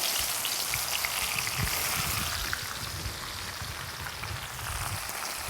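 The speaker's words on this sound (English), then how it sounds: "Fry the spinach crisp." Spinach frying in very hot oil, a loud dense sizzle and crackle with rapid popping bursts, steady and close throughout with no talking.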